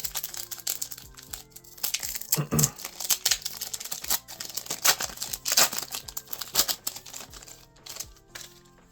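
Foil booster pack of trading cards being torn open and handled, crisp crinkling and tearing bursts of varying loudness, close and continuous.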